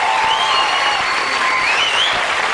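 A large studio audience at a late-night talk show bursts into loud, sustained applause mixed with laughter and whistles, a dense continuous roar with no individual voices standing out.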